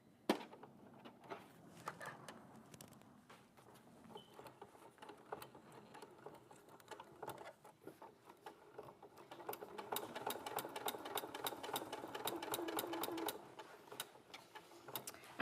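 A sewing machine stitches PU fabric with a lining, making a quiet rapid mechanical chatter that runs in bursts and speeds up into a longer continuous run partway through, with no talk.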